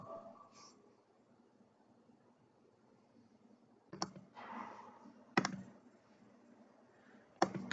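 A few sharp computer mouse clicks, isolated and close, separated by quiet stretches with faint rustling and breathing in the background.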